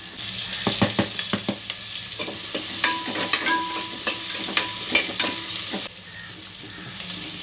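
Thickly sliced onions fry in butter and ghee for butter mushroom masala, a close, bright sizzle punctuated by sharp taps and scrapes of a spoon stirring the pan.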